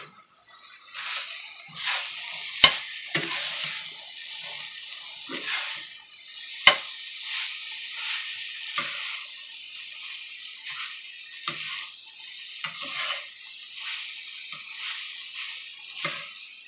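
Beef taco meat sizzles steadily in a pan while a utensil stirs and scrapes through it, with a few sharp clicks against the pan and no talking.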